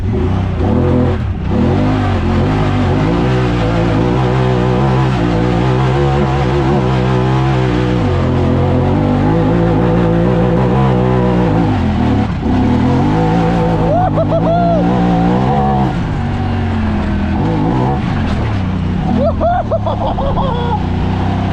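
An off-road vehicle on 33-inch Terache Stryker tires spins donuts in a front yard, its engine loud and continuous, revving up and down in long sweeping waves as the tires slide around.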